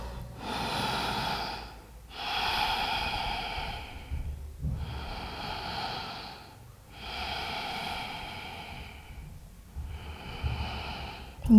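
Slow, audible breaths during a seated yoga forward fold, several long airy inhales and exhales in a steady rhythm, close and clear with short pauses between them.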